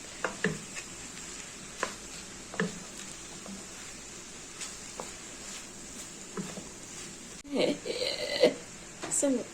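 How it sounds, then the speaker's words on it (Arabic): Sliced bell peppers, including green peppers, tipped into a hot pan and stirred, giving a steady low sizzle broken by scattered scrapes and a louder burst of clatter and frying near the end. "ننزل بالفلفل كله ونقلب"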